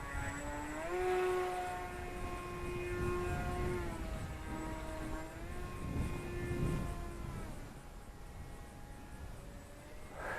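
An electric propeller drives a Volantex Ranger G2 FPV sport glider, its steady harmonic motor whine rising and falling in pitch as the throttle and flight path change, heard continuously at moderate distance with wind noise.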